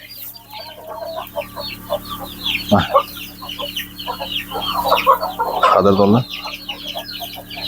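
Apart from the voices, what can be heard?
Andijan black chickens clucking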